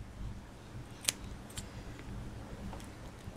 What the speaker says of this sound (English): Now you just want to cut off the excess.